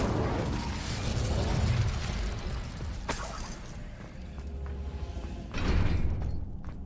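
The Incendio fire spell is cast in the video game Hogwarts Legacy: a crackling, bursting rush of magical fire with mechanical rattles, followed by a second whooshing burst near the end, moderately loud.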